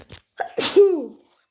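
A single close sneeze, with a short sharp inhale before it and a brief voiced trailing sound after it.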